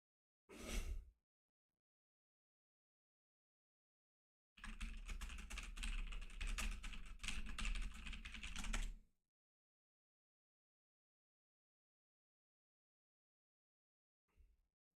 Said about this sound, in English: I just deleted everything that I was typing and redid it completely.